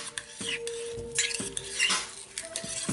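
A utensil scrapes and clanks against a pan while spicy lemongrass pork is stirred, giving repeated metallic scraping and knocking strokes at close range with a faint sizzle underneath.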